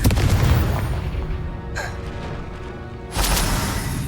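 A Confringo spell explosion in Hogwarts Legacy: a heavy boom at the start fades out, followed by a brief whoosh and then another loud burst near the end.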